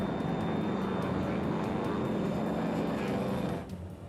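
A Loganair passenger plane flying over the North Sea, heard as a loud, steady broadband engine roar with a faint whine that drops off slightly at the very end, with no talking.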